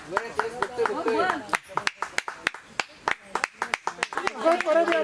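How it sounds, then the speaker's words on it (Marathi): Sharp, uneven hand claps from a small group of friends at a 50th birthday gathering, honoring a man named Bandu, ring out close by over lively talking and cheering voices. "बंडूसाठी टाळ्या वाजवा"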